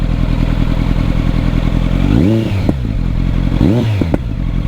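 A nearby 2023 Kawasaki Z900 with an aftermarket Mivv GP Pro exhaust idles roughly, then revs up twice in quick blips, each followed by a sharp pop as it drops back to idle.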